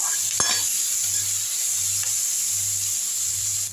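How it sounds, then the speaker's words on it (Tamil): Onion, tomato, coriander and mint sautéing in a pan, a steady close sizzle with a few soft scraping stirs and a low hum running underneath. "இதுலேயே வந்து தக்காளி போட்டுடலாம் ரொம்ப வந்து வதங்கணும்னு அவசியம் இல்லை வெங்காயம் லைட்டாக வதங்கினா போதும் நல்லா வதக்கி விட்டுருவோம்"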